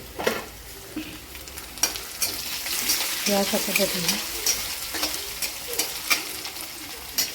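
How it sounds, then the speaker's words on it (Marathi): Curry leaves crackle in a hot oil tempering for a dry potato dish, with intermittent sizzling bursts and stirring clatter in the pan while someone speaks briefly. "कढीपत्ता पण छान असा परतून घ्यायचा आहे फोडणीमध्ये."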